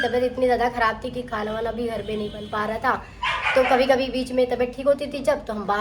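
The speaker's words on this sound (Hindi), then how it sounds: "तो अभी बाहर कुत्ते इतने ज़्यादा भौंक रहे थे कि मुझे ब्लॉग बंद करना पड़ा।" Dogs bark outside in repeated yaps and woofs, running beneath a person speaking Hindi close to the microphone.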